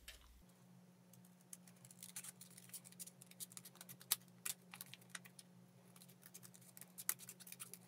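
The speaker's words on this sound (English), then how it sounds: "I'm going to cut along these bold lines that we have" Rapid crisp snips and clicks of scissors cutting paper along lines for a paper airplane, close by, in an irregular stream with a steady low hum underneath.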